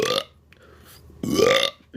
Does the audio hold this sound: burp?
yes